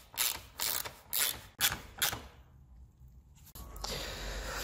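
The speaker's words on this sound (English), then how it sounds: "I may show you just us putting some bolts through and tightening them up to put that back on." Bolts are tightened on a Golf R bumper with a ratchet, several bursts of rapid close clicking separated by short pauses, followed by a duller, steadier mechanical rattle, with no talk.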